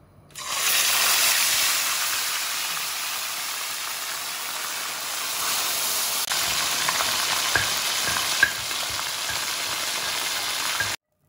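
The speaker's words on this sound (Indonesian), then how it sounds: "Kita goreng." Steady, loud sizzling of pomfret fish frying in hot oil, a dense crackling hiss that runs continuously with a few sharper pops.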